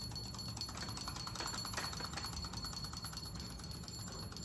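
A wind-up Christmas bell ringer toy rings continuously, producing rapid, faint metallic bell tinkles layered over a steady background hum.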